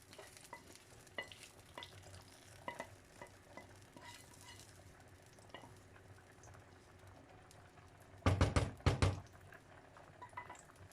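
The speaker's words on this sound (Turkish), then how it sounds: "Kavurmuş olduğumuz soğanları da baklavamıza karıştırıyoruz." A spoon stirs fried onions into a fava bean puree with lemon juice: soft, faint scraping for most of the stretch, then two brief, louder bursts of stirring near the end.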